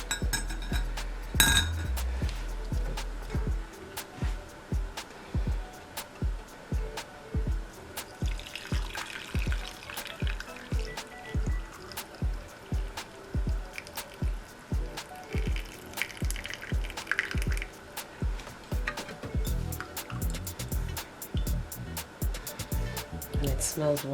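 Homemade jamu detox drink poured through a strainer in a kitchen: irregular clinks and taps of a metal strainer against glass, with trickling liquid in between and a louder clatter near the start.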